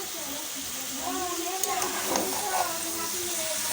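Boiled greens and mixed vegetables fry in a pan with a soft, steady sizzling hiss, while a voice talks faintly over the cooking.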